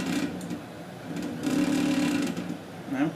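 3D printer stepper motors driving an axis on an Alfawise U20 during assembly, a sustained whining mechanical hum that shifts pitch as the motion changes, close and steady.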